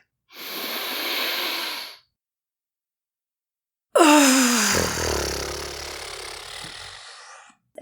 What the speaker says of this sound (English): That means nasal breathing in and out. That means quiet breathing. That means deep breathing, not big breathing.